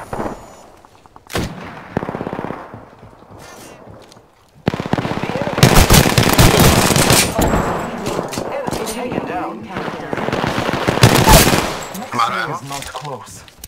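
Bursts of gunfire in the Apex Legends video game, with loud rapid volleys crowding the middle and end of the clip and quieter shots and game sounds earlier.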